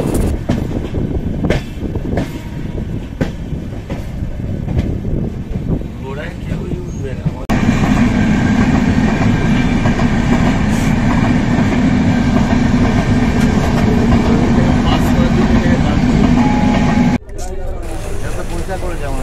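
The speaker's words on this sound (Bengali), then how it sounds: "এখন আমাদের ট্রেন গঙ্গার ওপর দিয়ে ছুটে চলেছে" The Doon Express train rolls over a bridge across the Ganges, a loud continuous rumble and rattle heard from inside the carriage with rhythmic clacking, the sound swelling heavier midway as it crosses, while people talk nearby.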